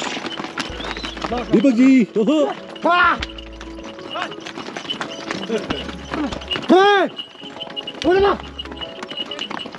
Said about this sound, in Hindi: घोड़ा भी मैं मस्ती से अकेले चला रहा हूँ